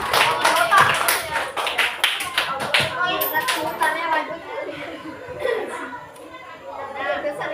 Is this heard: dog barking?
no